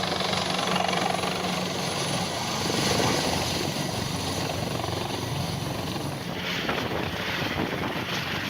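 A military helicopter flying, its steady rotor and engine roar loud and continuous throughout, filling the whole scene without voices.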